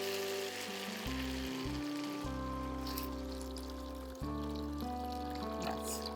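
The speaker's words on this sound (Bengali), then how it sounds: "এবার আমরা জল দেব। জল দাও তো সুজাতা" Water poured into a hot pan of lightly fried fish for a Bengali fish stew, with a steady pouring and sizzling wash held under a constant tonal hum throughout.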